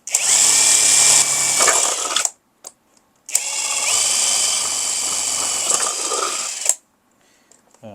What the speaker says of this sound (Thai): เดี๋ยวเราเจาะรูใส่ตัวบานาน่าแจ็คด้วยนะครับ หรือว่า ปลั๊กกล้วยนะครับผม ผมจะเจาะตรงนี้นะ